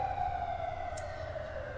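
A police car siren, far off, with a steady high wailing tone running through the whole stretch over a low background rumble, with no talk.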